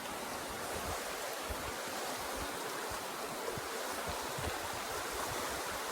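Steady rushing broadband water noise of a flowing river, continuous and fairly close, with no speech over it.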